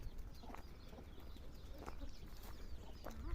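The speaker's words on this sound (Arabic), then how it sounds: "دجاج." Chickens cluck in short scattered bursts against a steady noisy outdoor background in Morocco, with a busy road and market nearby; the birds sound moderately close but not loud.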